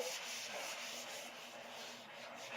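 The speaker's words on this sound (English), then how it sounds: "The sandpaper doesn't fill up, so you can give it a light sanding with this" Plexiglas given a light hand sanding with wet-dry sandpaper, a steady close rasping rub with soft repeated back-and-forth strokes, continuous and alone.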